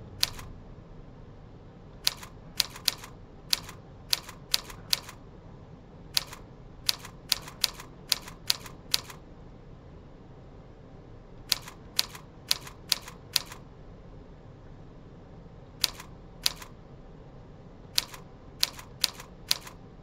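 Keys struck on a computer keyboard during a typing-tutor lesson, sounding as sharp, isolated clicks in short bursts separated by pauses, fairly close and alone without talk.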